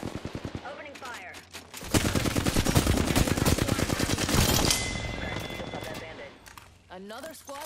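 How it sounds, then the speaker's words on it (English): Rapid automatic gunfire in a multiplayer shooter video game, a dense sustained burst of shots at close range mixed with game effects, with voice lines heard before and after. "Opening fire."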